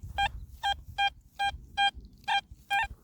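Repeated short beeping tones from an XP Deus 2 metal detector, seven evenly spaced pulses over a low outdoor rumble in a cow field.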